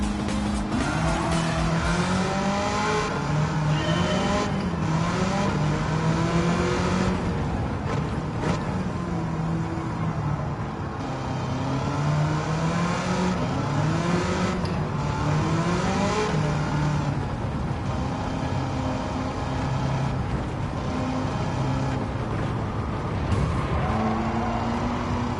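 Modified 1969 Corvette with an engine swap, driven in Gran Turismo 7: a loud, continuous engine roaring and rising through gears, with repeated revving sweeps and tire squeal under the steady drone.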